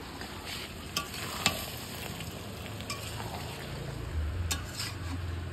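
Meat sizzles steadily in a hot pan with occasional clinks of a spoon stirring against metal, and a brief bubbling surge late on as water is poured in, all fairly quiet and close.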